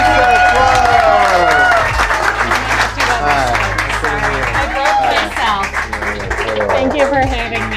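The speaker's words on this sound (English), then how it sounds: "please engage applause protocols for Lisa Quam" A comedy show audience applauds a guest comedian, a dense, loud wash of clapping and crowd noise with cheering and chatter mixed through it.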